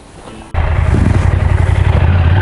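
A motorcycle engine suddenly kicks up to a loud, steady, throbbing drone while riding in day ride mode, close and continuous with rhythmic pulsing.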